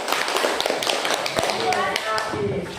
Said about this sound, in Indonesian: Tepuk tangan dulu untuk Martina